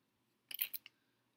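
A cheap pair of dollar-store scissors snipping a few quick, crisp cuts close by, in a short burst of about four sharp clicks before quiet.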